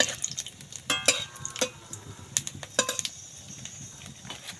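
Five-spice and a dried red chilli crackle and sizzle in hot mustard oil, with sharp irregular pops and spits over a low steady fry.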